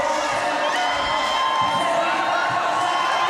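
Roller derby crowd at a World Cup bout cheers and roars continuously, a dense, loud wash of whoops and shouts that holds steady throughout.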